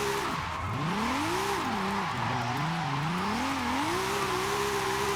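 A Toyota AE86 Trueno swapped with a 2JZ engine drifts in Forza Horizon 5, its engine note swooping up and down continuously as the throttle is modulated, over a steady hiss of tyre skid.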